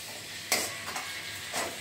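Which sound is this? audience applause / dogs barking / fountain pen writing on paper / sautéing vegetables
sautéing vegetables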